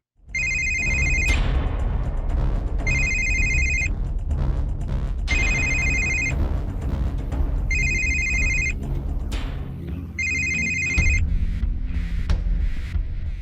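A telephone rings in five evenly spaced bursts, each a bright electronic trill of about a second, loud and close over a low steady background rumble.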